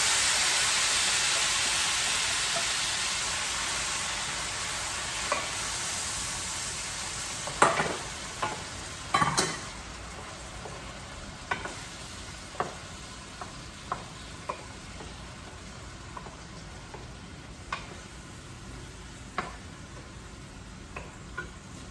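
Tomatoes with garlic frying in very hot oil, opening with a loud hiss that slowly fades into a gentler sizzle, punctuated by scattered crisp pops and spatula clicks, close up with no talk.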